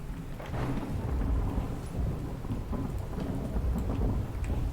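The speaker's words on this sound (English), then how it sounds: "except that it's raining" Steady rain pours with deep rumbles of thunder rolling beneath it in the survival game The Infected, a dense, continuous wash of drops with no voices over it.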